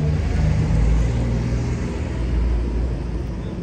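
A BMW M2 Competition passes on the street, a loud, close, sustained low engine rumble that swells and then eases off slightly, with no talk over it.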